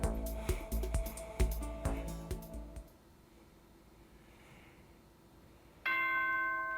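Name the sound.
school announcement chime in the video game Danganronpa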